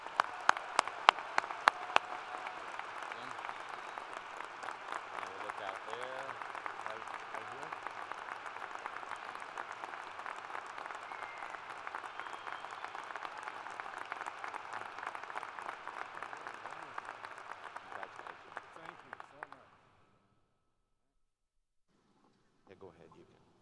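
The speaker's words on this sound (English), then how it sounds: "Please join me in a big round of applause." Sustained applause from a university commencement audience honoring a lifetime agricultural science achievement, a dense steady roar of many hands lasting about twenty seconds before stopping abruptly, followed by a brief faint stir.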